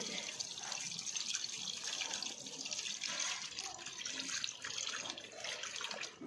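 Steady stream of tap water running and splashing while one litre of water is poured and mixed in for repairing a leaking water tank, a continuous close hiss with no talking.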